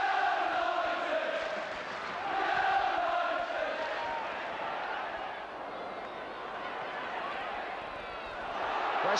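A large football crowd of about 25,500 at Bramall Lane roars steadily behind Sheffield United in a 1975 match against West Ham, a dense, continuous wash of cheering and chanting with surges near the start and end.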